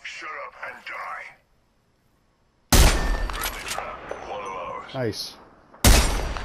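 Gunshots in a shooter game come in loud, sharp bursts after a short silence, with dense firing and clatter, while a voice speaks briefly over the start.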